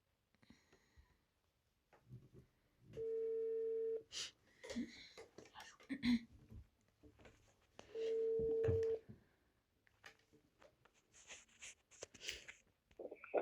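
Repeated telephone call tones on an outgoing phone call, two steady beeping tone bursts of about a second each with pauses between, interleaved with clicks and brief voices.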